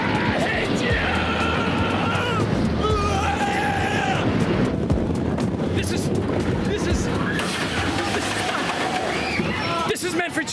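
Wind roaring steadily past on a children's roller coaster ride, a continuous loud rush buffeting the microphone, with excited voices and shouting mixed in throughout.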